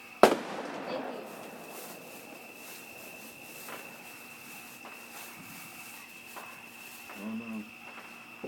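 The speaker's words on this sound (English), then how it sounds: "Hello, fireworks." Fourth of July fireworks and firecrackers go off in the distance, with one sharp nearby bang at the start followed by faint scattered pops and crackles over quiet background hum.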